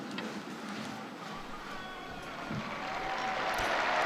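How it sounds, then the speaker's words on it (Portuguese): A large crowd applauds in St. Peter's Square, a steady, distant wash of clapping that swells slightly toward the end, with no voices. "E os aplausos dos presentes na Praça São Pedro também"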